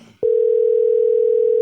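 After a brief faint murmur, a telephone dial tone starts abruptly and holds loud and steady. It is a single continuous pure hum that carries on to the end.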